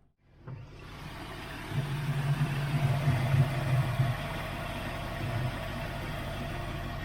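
Car engine idling after a new pulley was fitted, starting with a quiet onset then a steady low rumble that rises slightly and holds, fairly close, with no talking.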